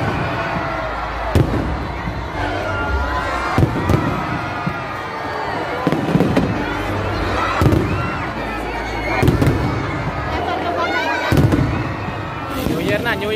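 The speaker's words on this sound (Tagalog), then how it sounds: "Punta tayo ng fireworks display to eh." A Chinese New Year fireworks display goes off at midnight amid a huge crowd, with loud, repeated booming bursts and crackling at irregular intervals over constant crowd noise and voices.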